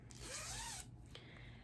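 A zipper on Posh Peanut baby footie pajamas is pulled in one smooth, close zip lasting under a second, followed by a short quieter rustle and click, with no talking.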